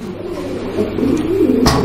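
A pigeon coos in soft rolling phrases, close by, over a steady low hum, with a brief louder burst of noise near the end. The bird is a black-shouldered running-pad breeder kept for sale.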